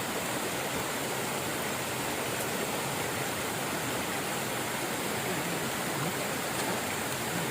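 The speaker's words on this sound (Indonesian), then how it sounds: "Oh, air terjun." A waterfall on a river rushes in a dense, unbroken hiss of falling water, steady and fairly loud throughout with no pauses.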